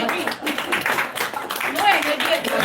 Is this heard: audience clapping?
yes